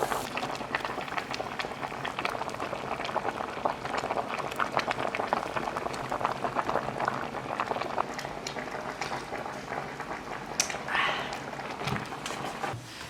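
Gastrodia chicken soup simmers in a covered pot with a steady bubbling and gentle rattle that continues evenly throughout at moderate level, with brief clinks toward the end.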